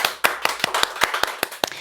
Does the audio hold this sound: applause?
yes